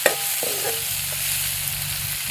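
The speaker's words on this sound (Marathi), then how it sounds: "टोमॅटो कांदा वगैरे चांगलं असतात आपल्याला हे परतून घ्यायचं." Chopped tomato and onion sauté in a hot pan for dal batti, giving a steady close sizzle with occasional scraping stirs and no talking.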